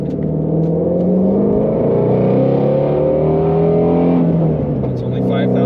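A 2020 Ford Mustang GT350R engine revs hard while driving on a road, a loud continuous roar with rising and falling pitch as the throttle changes, heard close from inside the car.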